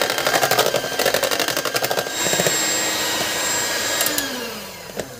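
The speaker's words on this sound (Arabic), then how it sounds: "هنسهل الامر ونضربه بمضرب الكهرباء" An electric hand mixer beats a homemade ice cream mixture, buzzing loudly with a rapid pulsing rattle at first, then settling into a steadier whir with a few clinks near the end.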